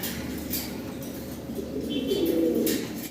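White-barred starling pigeons coo in low, steady, rolling calls close by, with faint chirps and a light flutter of wings over a constant background hum.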